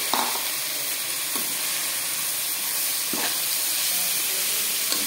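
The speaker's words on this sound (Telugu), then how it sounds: "పాలకూర కూడా బాగా ఫ్రై అయిపోయింది కదా" Spinach sizzles steadily in a hot pan for a palak rice dish, with a continuous close frying hiss and a few soft stirring scrapes, and no voices.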